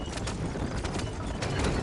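Horse hooves clip-clopping along a road in the Western video game Red Dead Redemption, a steady busy patter that carries through the short stretch, loud and close, with a faint whinny-like tone in the mix.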